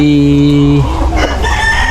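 Chickens calling close by on a farm, with a drawn-out crow-like note followed by softer clucks and farmyard chatter.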